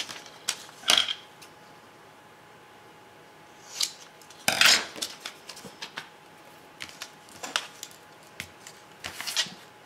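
Paper being cut for a baby album, scattered sharp snips and crisp rustles at irregular intervals, close and fairly quiet with no voices.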